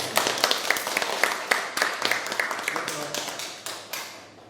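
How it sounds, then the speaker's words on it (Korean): A small audience claps in loose, uneven bursts at a book concert in a youth center, the individual hand claps distinct and fairly close, fading out toward the end. "박수 한번."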